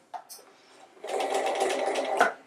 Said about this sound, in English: So you're just gonna take these and take them over to your machine, just using a standard stitch